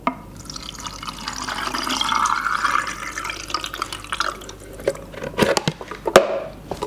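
X-Tol film developer pours into a developing tank with a close, steady liquid rush that swells, then thins to trickles and drips, followed by a few sharp plastic knocks and clicks near the end.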